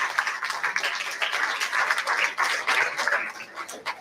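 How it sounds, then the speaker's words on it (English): Steady applause from a school audience for a fifth grade award recipient, many hands clapping densely and continuously at moderate distance with no talking over it. "Big round of applause, Clark."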